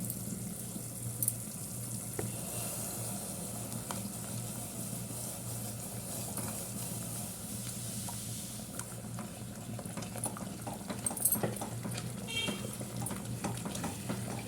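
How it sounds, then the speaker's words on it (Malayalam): Semolina is stirred a little at a time into a pan of boiling water, giving a steady bubbling hiss with faint scraping and patter throughout and no talk. "വെള്ളം തീ തിളച്ച് വന്നിട്ടുണ്ട് കേട്ടോ അപ്പോൾ നമുക്ക് കുറേശ്ശെ റവ ഇട്ട് കൊടുത്തിട്ട് ഒന്ന് മിക്സ് ചെയ്ത് കൊടുക്കണം"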